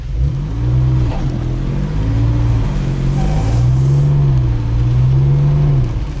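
Engine of an old car, long parked for years, revs up and down under gentle throttle while driving, a loud continuous drone rising and falling in steady swells throughout, with no voices.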